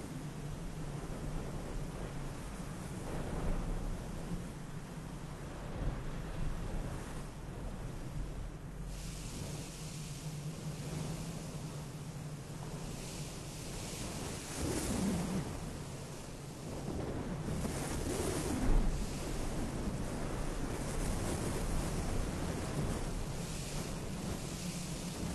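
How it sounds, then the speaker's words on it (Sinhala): Strong wind sweeps fine snow across the open Tokachi Plains in Hokkaido, a continuous broadband roar with gusts swelling and easing, loud and steady with no voices. "සිහින් හිමසුණු තද සුළං වලට හසු වී ගහගෙන යනවා."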